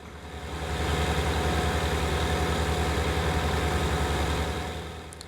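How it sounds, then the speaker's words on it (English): A tractor engine in Farming Simulator 19 drones steadily at low pitch as it drives forward, a loud, even rumble that swells in and fades out near the end. "now I can just drive forward with the tractor"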